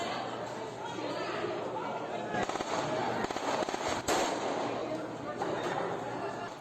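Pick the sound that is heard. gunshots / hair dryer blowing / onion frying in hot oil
gunshots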